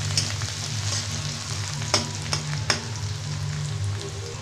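Crushed garlic sizzles steadily in hot oil in a pan, a close, continuous crackling fry with a few sharper stirring clicks and no talking, while cooking red amaranth greens with green chilli.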